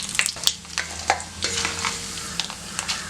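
Chana dal and urad dal fry in hot oil for rava kichadi, with crackling sizzle and scattered pops as a spoon stirs and scrapes the pan, close and fairly quiet, with no talking.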